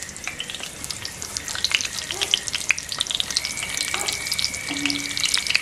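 Beef and onion for a Mexican asado fry until browned, a continuous close sizzle and crackle with stirring scrapes and a few spatula clinks, with no talking.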